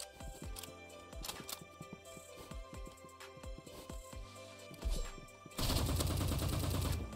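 Revolver shots ring out in Roblox Rivals, a rapid string of sharp, punchy cracks fired in quick succession. The firing ends in a louder burst of harsh, noisy blast near the close.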